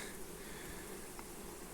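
A dense, steady buzz of many honeybees swarming close by at an open hive, continuous throughout with no voices.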